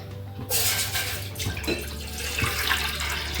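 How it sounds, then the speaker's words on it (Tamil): Water pours from a jug into a cooking pot on a stove for drumstick spinach soup, giving a close, steady splashing gush that starts abruptly and runs on without talk. "இப்போ நம்ம ஒரு சொம்பு தண்ணி வைக்கலாம்."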